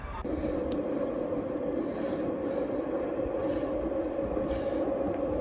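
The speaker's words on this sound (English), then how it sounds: "The Lewis train is coming right now." Steady rumbling of a tram arriving at a stop in Dublin, with a low mechanical hum and faint scraping, continuous and fairly close, without voices.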